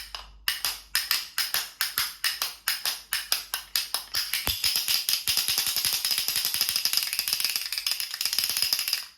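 A hand-held wooden clapper struck in a steady slow beat of sharp clacks, then shaken into a fast continuous rattle, close and loud with no talking.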